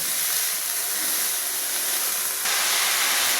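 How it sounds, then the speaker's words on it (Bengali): Chopped banana flower goes into a pan of frying potatoes and onions, giving a continuous loud sizzling hiss that grows louder and brighter partway through. "এবার আমি কেটে ধুয়ে রাখা মোচাটা অ্যাড করব"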